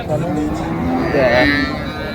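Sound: cow mooing at a cattle market

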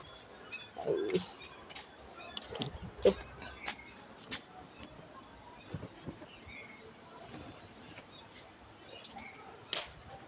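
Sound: sparrows chirping outdoors

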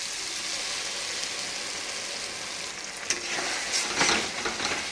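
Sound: frying cashew and poppy seed paste in a pan

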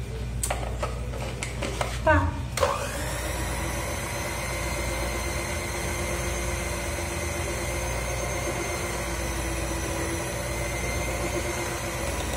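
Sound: blender briefly mixing low carb bread dough

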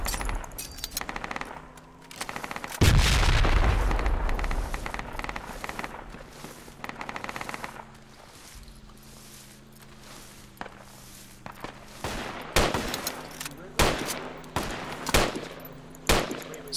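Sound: frag grenade explosion and gunfire in video game Project Reality

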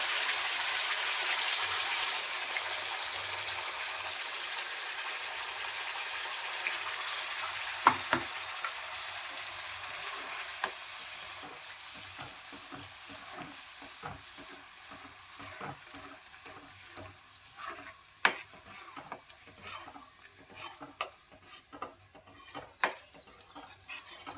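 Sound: ground tomato and onion paste frying for chicken curry

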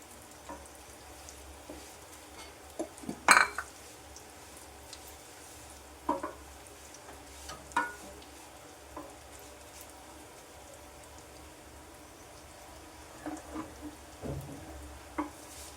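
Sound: vermicelli roasting in ghee in a pan

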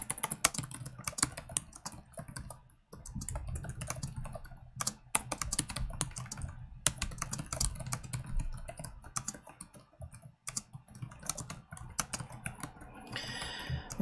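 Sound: typing on a computer keyboard

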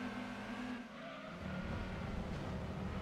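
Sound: car driving in a racing video game

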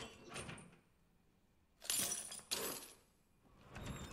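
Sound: bolt cutters cutting something open, from a video game

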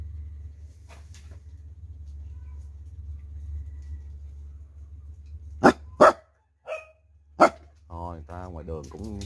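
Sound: dogs barking

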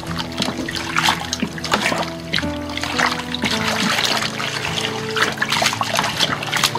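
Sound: boiling water being poured into homebrew lager kit

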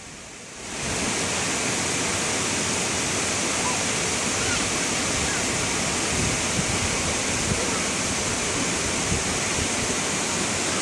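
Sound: waterfall

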